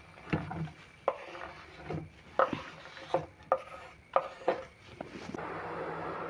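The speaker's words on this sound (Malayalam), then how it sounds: "നമുക്ക് തക്കാളി അരിഞ്ഞെടുക്കാം" A knife chops tomatoes on a board for a Kerala egg curry, giving about ten separate thuds at an irregular pace, close and moderately quiet, then a soft rustling shuffle at the end, with no one talking.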